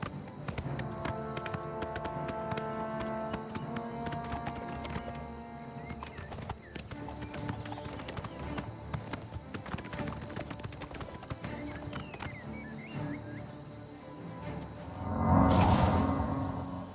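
Rhythmic hoofbeats of a horse galloping in the video game Oblivion Remastered clip-clop steadily over background game music, ending with a brief loud swoosh.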